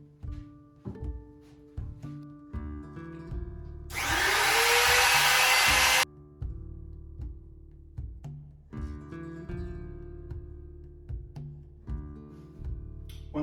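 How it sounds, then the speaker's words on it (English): Trim router cutting guitar body cavities in zebrawood, one loud sustained high whine for about two seconds amid quieter clicks and handling knocks, close up with no talk. "when you're using a small trim router"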